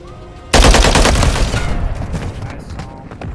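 Sudden burst of loud, dense automatic gunfire in Call of Duty MW3, a sustained rattling volley that gradually tapers off with scattered shots behind it.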